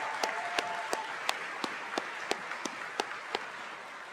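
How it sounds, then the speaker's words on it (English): Graduation audience at a high school ceremony clapping in a sparse, steady beat of distinct claps roughly every third of a second over a soft crowd wash, moderately distant. "Give me another round of applause for Mr."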